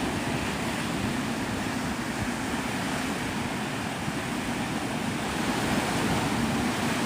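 Ocean surf at Navarre Beach, Florida rolls in as a constant, loud wash of breaking waves, with a dense, unbroken roar and some wind buffeting the microphone, no voices.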